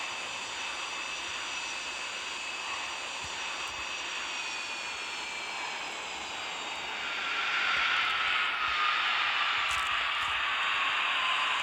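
Airbus A380 on landing approach in a flight simulator game, a steady jet engine whine and rumble that swells louder partway through, continuous and close with no talk.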